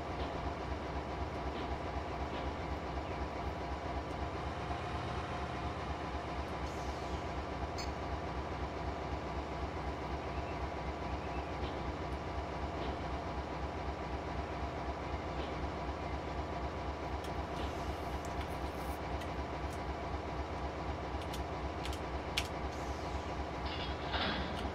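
GE 44 Ton diesel locomotive moving in Train Simulator 2019, a steady engine drone with continuous rhythmic clickety-clack of wheels throughout, a few faint clicks near the end.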